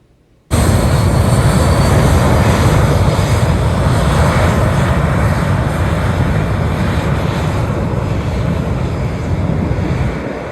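Airplane engines opening up to full power for takeoff, a loud, close, steady roar that starts abruptly and holds for several seconds, mixed with heavy wind noise and no talking, near a cruise port in the Caribbean.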